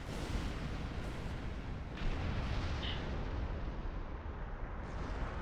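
An enemy starship explodes in Star Trek Online, a loud sustained rumbling blast with crackling debris that rolls on without pause and no voices.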